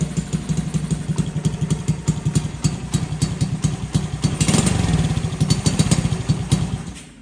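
A Honda CT70 motorcycle fitted with a swapped Lifan engine idles close by, a steady rapid putter that thickens and swells briefly midway before settling again.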